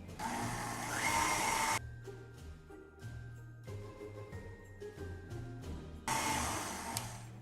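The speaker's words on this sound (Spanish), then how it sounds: "agregar la vainilla y comenzamos a batir nuevamente" An electric hand mixer beats homemade cookie dough after vanilla is added, giving a loud whirring hum that stops for a stretch of quieter bowl clinks and then starts again near the end.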